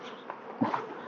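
An agitated honeybee buzzes softly at an apiary against a steady background hum, with a brief louder pass midway.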